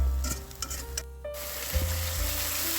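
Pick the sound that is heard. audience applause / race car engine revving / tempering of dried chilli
tempering of dried chilli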